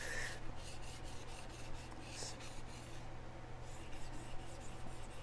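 A chef knife is stroked across a whetstone while a burr is raised from tip to heel, making quiet, close rasping scrapes in a fairly regular back-and-forth rhythm over a faint steady hum.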